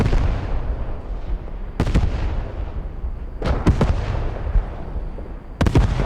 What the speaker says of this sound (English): You see an artillery barrage close to the objective, but really missing the mark